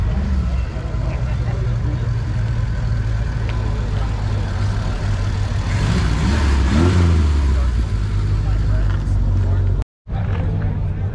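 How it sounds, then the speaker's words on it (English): Dense crowd chatter mixes with idling and revving engines at a packed Porsche supercar show, a continuous loud outdoor hubbub with cars moving close by and a brief cut near the end. "People and cars everywhere."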